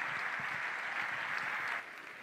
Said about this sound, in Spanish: Fuerte aplauso para Miguel Heras.